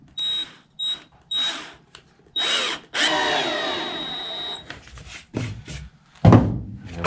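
Power drill driving a screw into wood while building a bed storage platform in a garage, several short whirring bursts followed by a longer strained run, then clunks and handling noises, close and fairly quiet.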